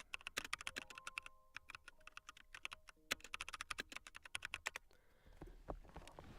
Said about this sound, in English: You keep typing. You keep typing.